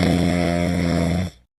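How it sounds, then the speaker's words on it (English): One long, loud, rasping snore drones steadily for over a second and then cuts off abruptly. "Snoring."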